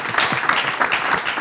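A short burst of continuous audience clapping in a TV studio during a French presenter contest, steady and fairly loud with no talk.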